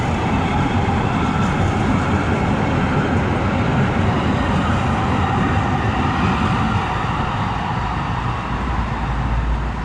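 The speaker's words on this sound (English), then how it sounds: "This is the train going downtown" A train heads downtown through the Azusa area of Los Angeles, giving off a steady, close rumble and rolling roar that holds evenly throughout with no voices.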